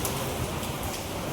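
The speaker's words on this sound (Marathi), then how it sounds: "तर आज पाऊस भरपूर लागतात." Heavy monsoon rain pours steadily around a state transport bus depot on a journey from Konkan to Mumbai, a dense, even hiss with no pauses and no voices.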